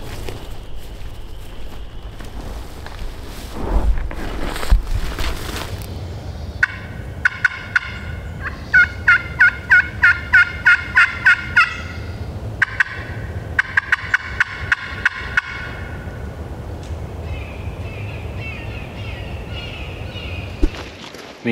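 Wild turkeys gobble repeatedly in the woods, several rapid rattling bursts spread across the stretch, some fairly close and others fainter, with scattered footsteps and rustling between calls.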